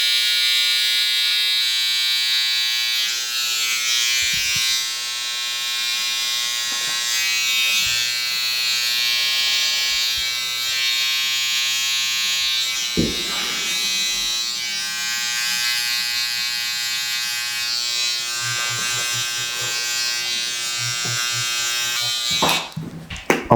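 Electric clippers trim sideburns and neck hair during a haircut on grown-out curly hair. The buzz runs steady and close for most of the stretch, with a few faint knocks and shuffles and a sharp clatter at the end.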